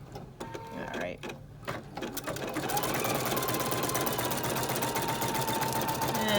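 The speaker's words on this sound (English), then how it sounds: "machine is stitching along" A Husqvarna Viking Epic 2 sewing machine stitches a blue fabric color block. A few scattered clicks give way to a steady, fast, close mechanical whir of stitching, with a voice briefly heard near the start.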